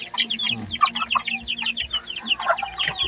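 A mother hen clucks softly and repeatedly up close while scratching up feed for her chicks, a busy stream of short calls with faint peeps mixed in.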